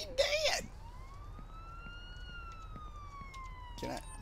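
Ambulance siren in the Police Simulator Patrol Officer video game, a single rising-then-falling wail heard at moderate distance, with a voice briefly at the start and end.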